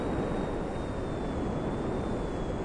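Steady, continuous roar of a jet aircraft engine in a multiplayer video game, a constant broadband rumble with a faint high whine, no talk.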